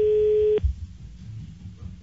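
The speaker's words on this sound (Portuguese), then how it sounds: "Vamos ligar pro Ildefonso" A telephone line tone sounds steadily for about half a second while a call is being placed, then cuts off, leaving faint line noise.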